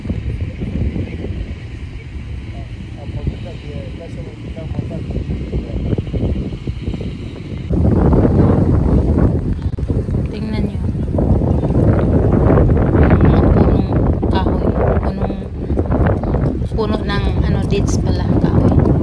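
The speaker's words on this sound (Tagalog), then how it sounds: "sobrang lakas ng hangin" Strong wind roars at night by the sea, buffeting the microphone with a steady rushing blast that grows heavier midway, while a voice talks over it.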